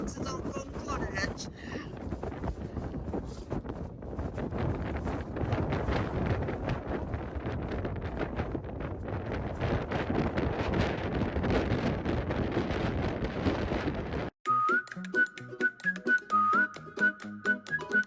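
Strong wind buffets the microphone in Torres del Paine National Park, Chile, roaring in loud, uneven gusts for about fourteen seconds before the sound cuts abruptly to music.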